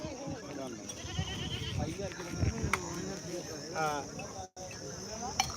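Goats bleat at a busy livestock market, their calls mixed into steady crowd chatter and voices.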